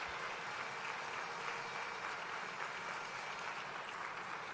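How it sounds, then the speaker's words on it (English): Steady applause from an audience at a Burn Foundation evening event, honoring the Eastern Pennsylvania EMS Council Honor Guard and its pipers. The dense clapping holds level and unbroken throughout. "would you please give a round of applause to the Eastern Pennsylvania EMS Council Honor Guard"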